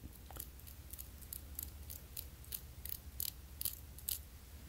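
The spring-loaded connector pin of an Apple MagSafe charger is scraped with a small tool, producing a series of faint, quick, scratchy strokes close by over a low steady background hum.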